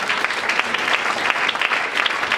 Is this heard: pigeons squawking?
no